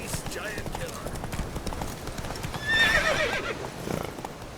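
In The Witcher III, Geralt's horse Roach clip-clops along with steady hoofbeats and lets out a loud whinnying neigh partway through, while a voice talks over it.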